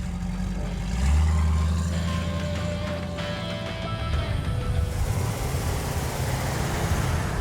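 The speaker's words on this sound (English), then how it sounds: "as legendary muscle car engines go, the 428 Cobra Jet is really the smooth operator" A 1968 Shelby GT500-KR Mustang with its 428 Cobra Jet V8 runs in a steady, low idle rumble up close, swelling briefly louder before settling into a smooth drone with no talk.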